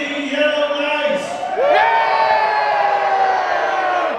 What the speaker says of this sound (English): Let us raise a loud cheer for the mighty Yellow Knights!